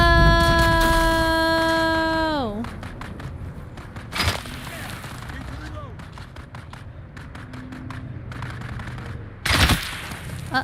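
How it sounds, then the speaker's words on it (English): Gunfire in Dune: Awakening: an engine-like tone winds down, then scattered rapid shots crackle at mid distance, with two loud close blasts, and a voice talks over part of it. "somebody's shooting at me"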